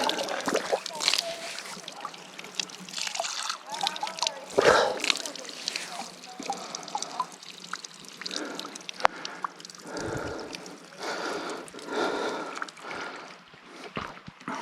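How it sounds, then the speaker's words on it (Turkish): Two fountains run at a mountain gorge picnic area, giving a continuous trickle and splash of flowing water close by, with people talking over it throughout. "iki tane akan çeşme var"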